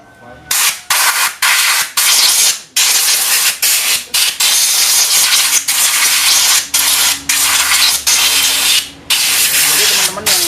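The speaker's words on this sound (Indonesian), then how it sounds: "kita semprot pakai angin juga ya teman-teman." Compressed air blasts onto Mio Soul scooter CVT parts in a loud series of about a dozen harsh hissing bursts, each lasting under a second, separated by short gaps.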